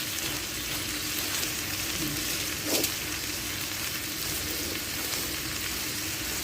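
Cabbage added a little at a time to a pan with chicken fries with a steady, close hiss and crackle, broad and even, with a brief clink of a utensil midway and no talking.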